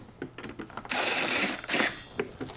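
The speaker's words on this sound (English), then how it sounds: "Just line up the screws and screw down." Screws are driven down during a computer build, heard as two close, whirring bursts of a few seconds each, with lighter taps and clicks around them.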